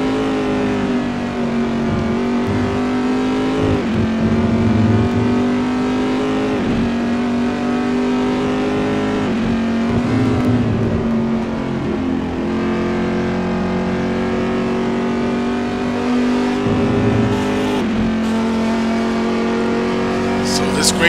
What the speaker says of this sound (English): Ian Jolicoeur and Al Merriman, they are racing for the 6th position on the grid right now.